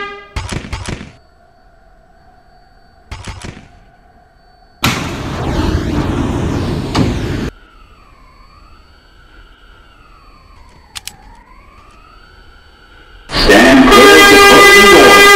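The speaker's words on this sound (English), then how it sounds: "Train approaching the station." Subway train arriving at a station in Roblox, an R179 M train on the Metropolitan Avenue line: rising and falling motor whine as it pulls in, with brief door chimes and loud hissing bursts.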